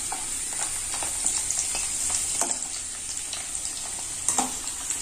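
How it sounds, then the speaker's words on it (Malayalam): Cashew nuts and raisins fry in fat for Onam parippu payasam, giving a steady close sizzle with faint crackles and occasional stirring scrapes, and no voices. "ഇപ്പൊ നമ്മുടെ കാഷ്നട്ടും കിസ്മിസും ഒക്കെ നന്നായിട്ട് മൊരിഞ്ഞ് വന്നിട്ടുണ്ട്."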